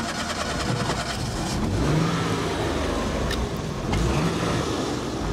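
An old car's engine runs steadily at a loud, close, even idle with mild swells in revs, a continuous mid-pitched rumble with no voices over it.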